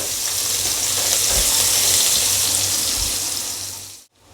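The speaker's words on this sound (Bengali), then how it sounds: "দিয়ে পেঁয়াজটা আমি ভালো করে লাল করে ভেজে নেব।" Chopped onions frying in a pan, browning for a taro and prawn curry, give a steady, loud broadband sizzle that holds evenly for about four seconds before cutting off abruptly.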